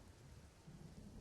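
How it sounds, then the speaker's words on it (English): A rain and thunderstorm sound effect plays during a tabletop role-playing session: a steady, faint wash of rainfall with low rumbling thunder underneath, no voices. "you stand out there in the rain and the storm."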